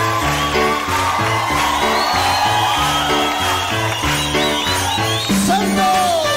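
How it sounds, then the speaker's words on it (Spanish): A church congregation whoops, shouts and cheers loudly during worship, backed by steady rhythmic music and a pulsing beat throughout, with voices rising over the top. "levanta tu aplauso fuerte al Señor"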